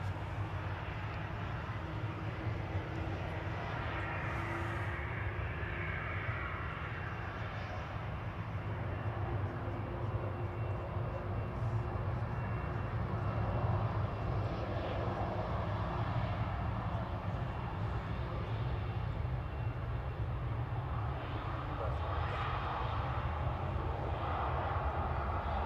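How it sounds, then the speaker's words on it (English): A TAP airliner arriving from Lisbon at Manchester Airport, a steady distant jet roar that holds throughout with no talk. "Next arrival is TAP from Lisbon."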